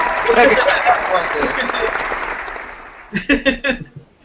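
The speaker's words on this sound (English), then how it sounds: "we got to give him a round of applause." Crowd applause fills the opening seconds for a studio show guest, a broad dense patter that fades, before a few sharp loud claps near the end, with talk mixed in.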